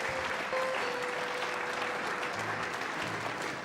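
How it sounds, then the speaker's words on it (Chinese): Audience applause at a wedding ceremony, a steady wash of many hands clapping at moderate distance, with a faint sustained musical tone in the background. "让我们一起掌声为他见证。"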